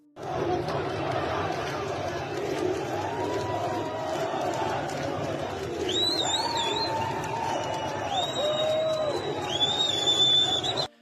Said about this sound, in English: the police officers who are supposed to be stopping the protesters are actually clapping and waving to the protesters as they march past